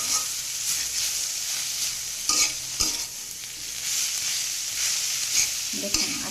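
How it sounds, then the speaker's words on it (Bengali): Kalai greens with beans being stirred in a hot pan, a steady bright sizzle running throughout with periodic scraping strokes of a spatula, close up and continuous, no voices. "এভাবে সুন্দর করে নাড়তে থাকতে হবে।"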